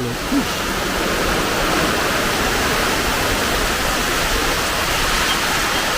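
Heavy monsoon downpour drums steadily in a dense, loud, roaring wash that never lets up, close by and with no voices over it.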